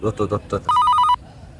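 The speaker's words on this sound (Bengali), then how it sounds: "ওর আব্বা ফোন দিচ্ছে আবার ফোন দিচ্ছে" A telephone bell rings in one short, steady burst right after a few quick spoken syllables, close and loud, then cuts off into quiet.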